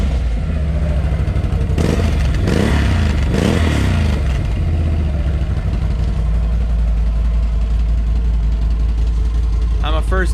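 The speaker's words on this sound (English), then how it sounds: "these Can-Am sound good from the factory" A stock Can-Am off-road vehicle engine runs close by at a steady idle with a few brief revs early on, the low rumble continuing throughout and faint speech-like sounds over it.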